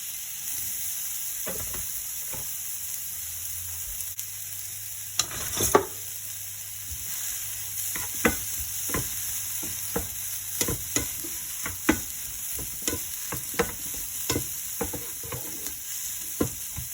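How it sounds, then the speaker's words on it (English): Onion and mushroom frying in a pan with low-fat cooking spray, a steady hiss of sizzling punctuated by intermittent spatula stirs and scrapes, close up with no talking. "Let that fry up nicely."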